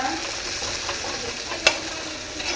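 Vegetables stirred in a hot pan with salt and turmeric powder, a soft continuous sizzle of frying with light scraping of the spoon and one sharp clink partway through, close and fairly quiet.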